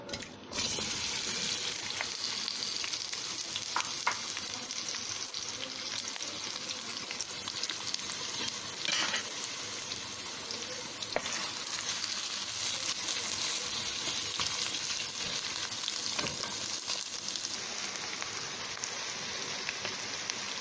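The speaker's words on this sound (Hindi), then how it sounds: "ऑयल गर्म हो गया। अब हम इसमें सबसे पहले प्याज डालेंगे।" Onions sizzle and fry in hot oil in a pan, a steady dense crackling hiss that holds at an even level throughout with occasional sharper pops, close up and with no talking.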